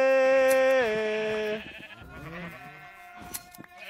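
A sheep in Minecraft lets out a loud, drawn-out bleat with a wavering pitch drop, followed by quieter game sounds.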